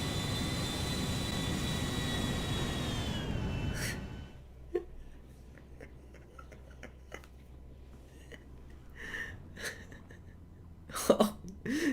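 An Airbus A380 crashing in a flight video game: a steady, droning engine roar cuts off abruptly after about four seconds. Quiet follows, with soft clicks, breaths and a gasp near the end.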